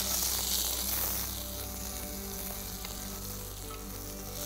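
Raisins fry in a pan over low heat for halwa, giving a steady, close sizzling hiss with a constant low hum beneath it and no talking.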